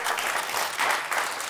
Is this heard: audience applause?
yes